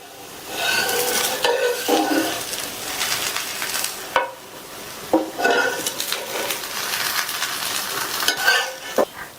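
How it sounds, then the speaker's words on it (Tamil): Spicy kara dosa spread with chutney cooks on a pan, a close, steady sizzle broken by repeated scraping strokes and a few sharp metallic clinks from a spatula. "சட்னியை ஸ்ப்ரெட் பண்ணதுக்கு அப்புறமா 2 நிமிஷம் கழிச்சு நம்ம தோசையை எடுத்துடலாம்."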